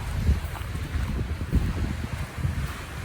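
Strong wind of about 30 miles an hour blowing outdoors in Livingston, Montana, a loud continuous low rumble buffeting the microphone in steady gusts, with no talking.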